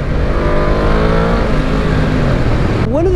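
A Yamaha VMAX motorcycle accelerating hard, its engine note climbing steadily and loud through the run before cutting off abruptly near the end.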